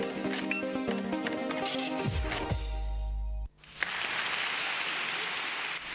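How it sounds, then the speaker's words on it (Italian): Audience applause at a televised event, dense broadband clapping for about three and a half seconds, then a brief pause before a steady, loud wash of clapping resumes to the end. "Applausi."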